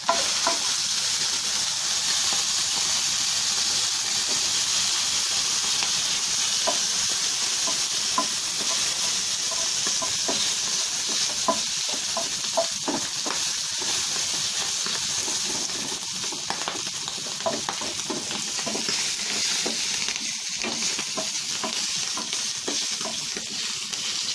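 Pork, started in its own rendered fat, sizzles and crackles steadily in a pan, with occasional stirring clicks over a continuous close frying hiss that lasts throughout.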